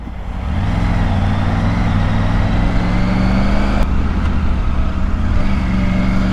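Triumph Tiger 900 Rally Pro motorcycle being ridden, a loud steady engine drone with low rumbling tones and rushing wind, holding a constant pace close by with a brief click midway.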